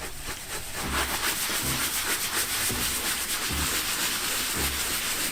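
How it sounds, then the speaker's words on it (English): A soft bristle brush scrubs a leather car seat in a Ferrari convertible, giving a steady, close rasping swish with rhythmic strokes throughout, no talking. "something I really like when I'm cleaning leather seats is a soft bristle brush"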